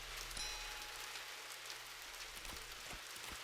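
Steady rain from the video game An English Haunting, a soft dense hiss with scattered drops tapping a surface, heard alone at a moderate, even level.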